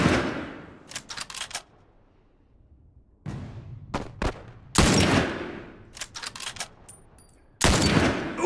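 Gunshots in The Last of Us on Grounded+ difficulty: sharp, loud reports, some single and some in quick clusters, each ringing out with a decaying tail, separated by quiet gaps.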